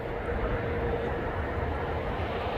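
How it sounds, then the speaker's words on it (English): A steady, distant low roar of airplanes passing overhead at night, a continuous rumbling drone with no breaks and no voices. "Planes keep flying by."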